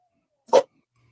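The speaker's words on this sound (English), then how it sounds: "As my dog barks." A dog gives a single short bark, close and clear, in an otherwise quiet room.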